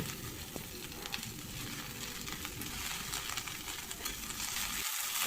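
Cauliflower leaves sizzle and crackle in a hot pan with a steady, fairly loud frying hiss and occasional stirring scrapes.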